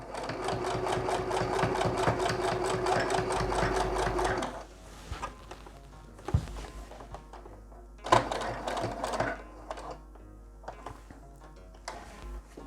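Sewing machine stitching with topstitch thread, a fast steady rattling run for several seconds, then scattered clicks and a second shorter burst of stitching, close and moderately loud.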